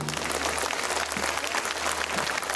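A large crowd of students at a school annual day claps continuously, a dense, even wash of hand claps over a low hum, loud and close throughout.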